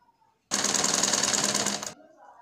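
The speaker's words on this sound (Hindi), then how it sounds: "इस पर हम सिलाई लगाएंगे सिलाई लगाने के लिए इसको हम उल्टा फोल्ड करेंगे और इस तरह से सिलाई लगाते हुए ले आएंगे" A sewing machine stitches a folded fabric strip for a kurti. It runs in one steady, fast, loud burst of about one and a half seconds, close by, and quiet comes before and after.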